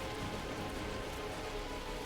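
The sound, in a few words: venomous rain effect in the video game World of Warcraft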